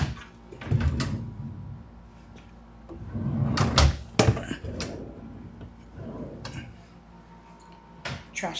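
Hotel room drawers in a king room are opened and closed, giving several wooden knocks and slides in bursts with quiet gaps between them, close by and moderately loud, with no talking.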